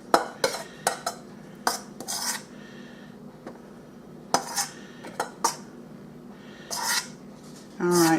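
Cream cheese scraped from one bowl into another with a utensil: a series of close, sharp clinking and scraping strokes against the bowl, coming in uneven bursts with brief pauses between them.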